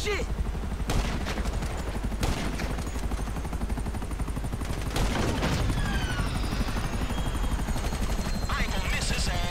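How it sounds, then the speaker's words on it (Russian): Helicopters close in during a shootout in Grand Theft Auto V, a steady rotor drone filling the scene while bursts of gunfire crack repeatedly over it, loud and continuous throughout. "Ой, мы, кажется, привлекли внимание вертолетов."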